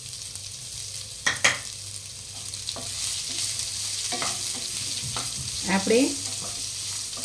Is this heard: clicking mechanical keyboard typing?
no